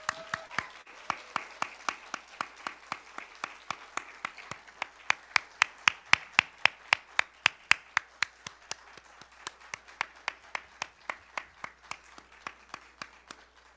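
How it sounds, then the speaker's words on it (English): An audience greets Swami Mukundananda at a book launch with rhythmic, synchronized clapping, loud and regular beats that swell in the middle and then thin out toward the end, with no talking. "Please join me in welcoming Swami G with a huge round of applause."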